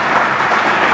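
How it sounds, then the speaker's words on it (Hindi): Loud, dense audience applause at a Gayatri Parivar gathering, a continuous wash of many hands clapping close and steady with no pauses. "जोरदार ताली बजाइए।"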